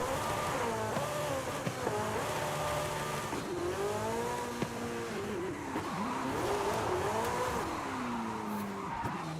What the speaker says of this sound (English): In a supercar.